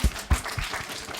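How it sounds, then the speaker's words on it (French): Applause from the audience at a live podcast recording, a few distinct loud claps at the start followed by a brief, softer patter of clapping. "vous pouvez l'applaudir s'il vous plaît."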